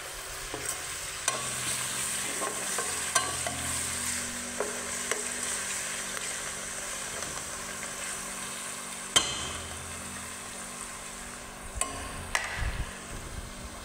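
Ginger garlic paste sizzles steadily in a hot pan, with scattered knocks and scrapes of a spoon stirring it through, no one talking.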